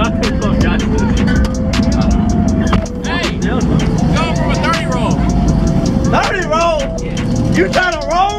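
Trucks, including a Chevrolet Tahoe, roll racing at a truck meet, engines roaring and revving steadily under a crowd of people shouting and talking loudly throughout.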